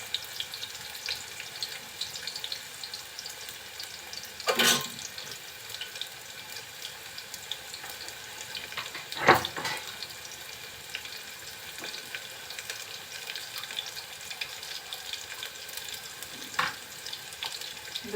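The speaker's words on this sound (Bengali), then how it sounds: "এখন এর ভিতরে দিচ্ছি একটা রসুন কুচি" Chopped garlic fries in a pan for a dal potato curry, with a soft continuous sizzle and a few brief louder clatters of stirring, fairly quiet and close.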